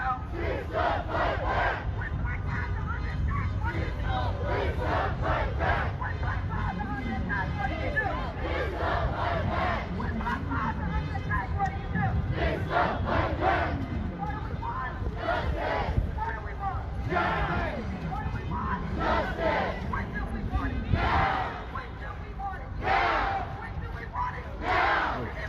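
A protest crowd at a 2020 police brutality demonstration in Dallas, many voices chanting and shouting together in loud rhythmic bursts over constant outdoor crowd noise, close by throughout.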